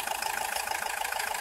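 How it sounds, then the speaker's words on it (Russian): A 2009 Renault Master 2.5 dCi 120 van engine idles while its radiator and cylinder head are being flushed, giving a steady, fast diesel chatter that stays even for a short moment with no voices. "И оттуда заводите двигатель."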